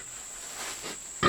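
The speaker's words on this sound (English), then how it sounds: "You can hear her panting." Soft, steady breathy panting from a pig in labor over faint background hiss, ending in a brief louder grunt or rustle.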